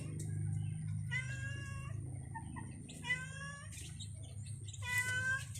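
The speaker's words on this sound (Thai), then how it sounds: "มันร้องเงี้ยเงี้ยเงี้ยอยู่" A hungry cat meows three times in drawn-out, nasal cries spaced a couple of seconds apart, fairly close, over a low steady hum.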